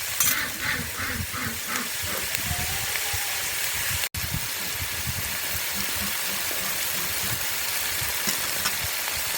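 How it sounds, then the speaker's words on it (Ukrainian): Onion and dried mushrooms frying in a pan with spices, a steady close sizzle running throughout with small crackles, briefly cut off for an instant midway. "наша цибулька вже майже обсмажилася"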